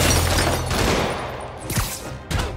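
Dense volley of gunfire in Spider-Man Remastered on PS5, a loud continuous barrage of overlapping shots and impacts with a couple of sharper cracks near the end.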